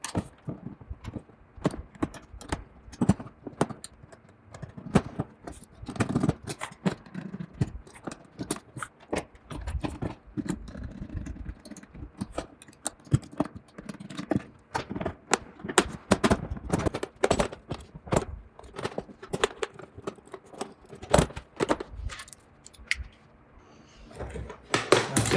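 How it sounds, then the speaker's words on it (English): A case opening being cut out for a battery monitor on a DIY solar-powered portable charger, with dense, irregular clicking, scraping and cutting noises continuing steadily throughout, close and moderately loud, with no talking. "the next thing I'm going to do is make my cut for the battery monitor"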